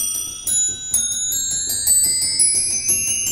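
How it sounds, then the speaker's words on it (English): Bells on an 1887 B. Shoninger reed organ ring out in a run of bright, sustained metallic strikes, each note chiming and overlapping the last, loud and close with no talk. "Then of course it's got the bells."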